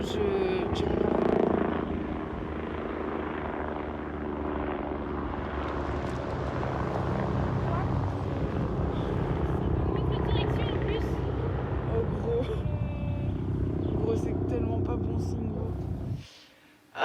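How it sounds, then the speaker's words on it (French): A helicopter drones steadily overhead for most of the time, its rotor and engine noise mixed with people talking nearby, then cutting off abruptly near the end. "Ah, l'hélicoptère."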